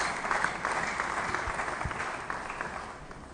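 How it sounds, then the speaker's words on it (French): A church congregation applauds during a French-language worship service, a dense, even patter of many hands clapping continuously and gradually easing off. "Nous acclamons le Seigneur pendant que nous sommes en train de reprendre place"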